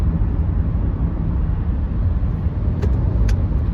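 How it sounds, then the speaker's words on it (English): Steady, loud road rumble from inside a car cruising at 60 miles per hour on a nearly empty highway near DC, a continuous low drone with a couple of brief faint higher ticks near the end. "We are driving at 60 miles per hour."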